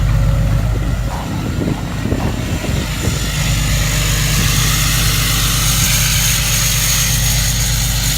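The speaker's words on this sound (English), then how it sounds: "Five-inch turbo back exhaust." A 2014 Ram 3500 with a Cummins 6.7 diesel and a five-inch straight-pipe turbo-back exhaust on a cold start, its deep steady idle rumbling loud and close, with a rougher, choppier stretch in the first few seconds before settling.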